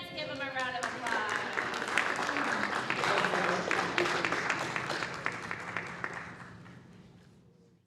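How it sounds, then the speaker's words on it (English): An audience at a city council meeting breaks into applause, a dense burst of many hands clapping that holds steady for several seconds, then thins and fades out. "Let's give them a round of applause"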